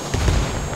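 A grenade blows up in the military shooter Ghost Recon Wildlands, one short, heavy, booming blast heard up close, with nobody talking.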